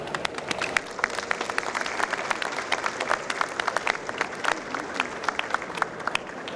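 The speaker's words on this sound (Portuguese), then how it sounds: "queria também pedir aqui uma salva de palmas para os 4 organizadores em consórcio por esta feliz iniciativa" Sustained applause from an event audience thanking the organizers, dense steady clapping of many hands continuing evenly for several seconds with no voices over it.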